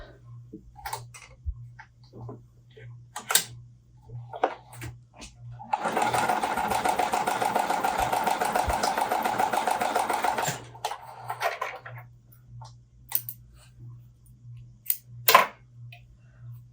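Sewing machine stitching cotton quilt blocks runs in one steady, close burst of about five seconds, with quiet handling clicks and taps before and after.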